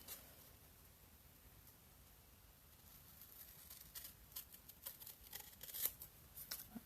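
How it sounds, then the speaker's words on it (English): Big scissors slicing a strip from a sheet of cardstock for a Stampin' Up! easel card, a run of quiet crisp snips and paper rustles growing louder toward the end, close by with no talking. "Now I want my big scissors for this. So I'm just going to cut this into a"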